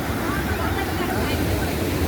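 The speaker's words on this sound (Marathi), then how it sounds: "हा पण पुढं खळखळणारा धबा आहे" Water rushes and gurgles steadily at Randha Falls in Bhandardara, a dense, continuous roar close to the microphone with no pauses.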